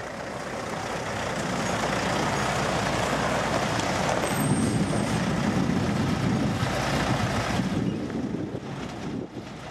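A delivery truck carrying a concrete manhole rumbles in and draws near on a job site, its engine swelling to a loud, broad roar with wind noise, a brief hiss, then easing off.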